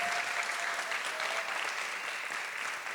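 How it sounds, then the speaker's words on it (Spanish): Audience applause filling a church service, a dense, steady wash of clapping that holds loud and even for about three seconds with no pause. "¿Qué tal si le damos un aplauso fuerte a todos ellos?"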